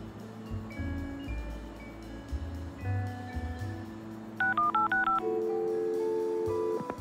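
A telephone in Leisure Suit Larry: Wet Dreams Dry Twice plays a dial tone, then a quick burst of several touch-tone beeps in a row, followed by a long steady ringing tone, clear and alone.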